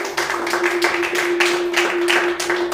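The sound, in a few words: audience clapping in church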